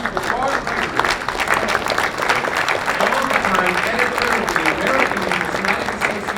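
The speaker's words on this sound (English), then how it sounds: "A warm round of applause for Barb Gregory, longtime editor of the Ame" An audience gives a warm, sustained round of applause honoring the longtime editor of the American Numismatic Association's publication, dense overlapping claps holding steady throughout, with a voice or two faintly mixed in.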